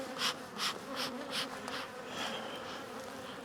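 Dense, close buzzing of many bees around a hive in full sun, swelling and fading in quick pulses as they fly around nearby.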